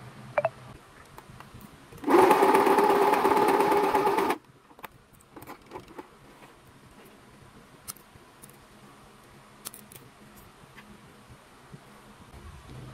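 A sewing machine with an ordinary size 18 needle stitches heavy denim thread, a steady loud whirring run lasting about two seconds, then stopping into a quiet room with faint small clicks.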